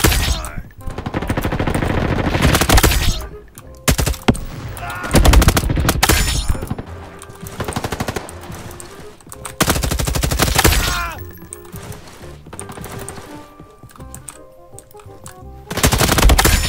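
M4 rifle fire in the Roblox Call of Duty video game comes in loud, dense automatic bursts with sharp single shots, separated by brief quieter gaps over a steady game background.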